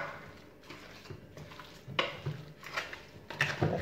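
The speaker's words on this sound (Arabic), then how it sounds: "دابا غادي نحركها مزيان، غادي نحركها ونديرها تقلى" Sheep's head and tripe meat stirred in a pot, with scraping and clinking of a utensil against the metal over a faint sizzle, the strokes growing louder and more frequent toward the end.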